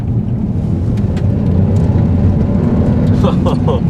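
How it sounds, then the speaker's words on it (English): 2011 Volvo S60 T6 AWD accelerating from inside the cabin, a loud, steady low engine drone mixed with heavy tire roar, with a person speaking over it near the end. "The engine is loud and the tire noise is loud."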